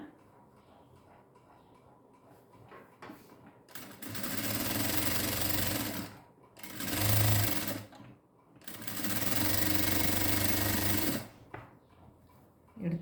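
A sewing machine stitches blue piping onto a blouse sleeve in three loud bursts of running, separated by short pauses, with quiet handling between runs.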